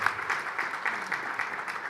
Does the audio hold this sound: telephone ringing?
no